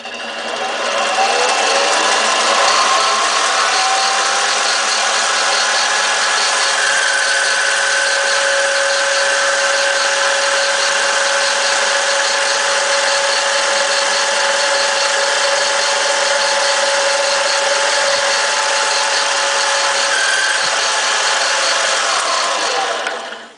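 A steady, continuous lathe whine runs throughout, loud and close, with a thin high tone rising out of it partway through as the end of a pen blank is faced square.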